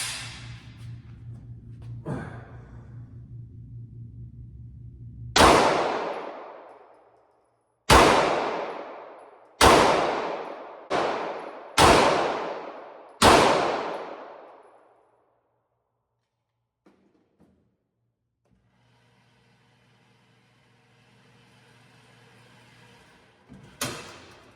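Five loud, sharp pistol shots from a Springfield 2011 Prodigy ring out at an outdoor range, irregularly spaced over about eight seconds, each one decaying slowly, with quiet stretches before and after.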